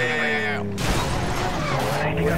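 A car crashes in the PC racing game Need for Speed Most Wanted, a loud burst of smashing noise cutting across a droning engine tone, with no clean separation from the surrounding game sound.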